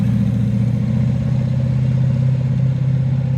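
Twin-turbo Camaro driving on a street, a loud steady low engine drone that holds constant throughout with no pauses.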